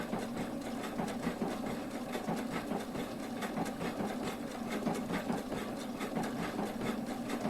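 A sewing machine stitches steadily at a lowered speed while a Jody sassy shoulder bag is being made. It gives an even, continuous mechanical whir with a soft repeating needle rhythm.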